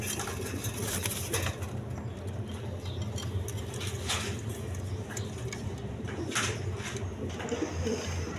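Big-sized kaldam pigeons coo softly in a pen, their low murmuring running continuously beneath scattered patter, clicks and rustling.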